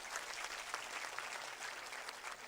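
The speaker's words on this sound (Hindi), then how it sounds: "उनके लिए ताली बजाना कभी कभी" Steady applause from an election rally crowd at Takhatpur, a dense wash of many hands clapping continuously at a distance, fairly even in level throughout.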